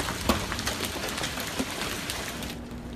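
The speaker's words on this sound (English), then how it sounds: "You can see and hear the noise from the hail falling in Evanston." Large hailstones pelt the area in Evanston, damaging car windshields: a dense, steady clatter of hitting stones that continues evenly throughout, with a few louder impacts poking out.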